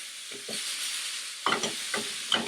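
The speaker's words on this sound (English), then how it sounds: "So stirring, one has to be careful if you want to keep the shape of these things" Zucchini koora stirred in a pan: a soft, steady sizzle broken by a few scraping strokes of a spoon, two light ones first and then three or four firmer ones close by, with no talking.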